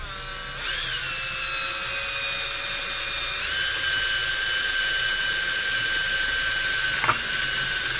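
A drill whines steadily while enlarging a hole in a punctured tyre during a screw-plug repair, its pitch stepping up partway through and a brief catch near the end, loud and close with no talking.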